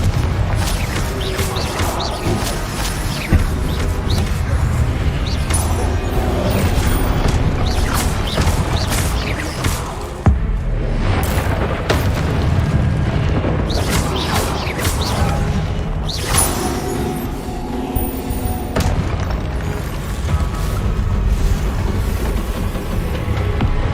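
Confringo and Incendio spells going off in Hogwarts Legacy, a dense run of booming blasts, crashes and whooshes layered over continuous game rumble and mechanical clatter, loud throughout.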